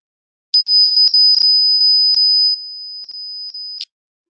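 A steady, piercing 5,000 hertz test tone plays alone for about three seconds, loud and pure, with a few brief dropouts before it cuts off.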